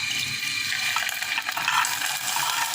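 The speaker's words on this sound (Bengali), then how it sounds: "এবার আমি ঢেলে দেব" Liquid pours steadily into a pan while pudding is being made, a continuous splashing trickle heard up close without talk.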